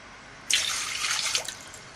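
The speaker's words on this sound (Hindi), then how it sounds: "सबसे पहले हम एक पैन में पानी डालेंगे ताकि अपना शीरा तैयार कर सकें।" Water pours into a cooking pan to start a sugar syrup, a sudden close hissing splash that runs steadily for about a second and a half, no voices present.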